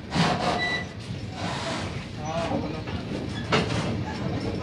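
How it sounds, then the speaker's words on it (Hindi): Moving passenger train heard from inside a sleeper coach, with a continuous rumbling rattle of wheels and carriage, and a voice speaking faintly over the noise. "ये ट्रेन जो है वो स्लीपर बोगी है"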